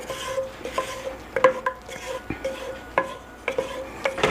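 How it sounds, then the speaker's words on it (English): A spoon scrapes and knocks steadily against a pot while a roux of flour and fat is stirred for a smoked turkey gumbo, with rhythmic clinks and soft rubbing close by and no talking. "Keep stirring, y'all."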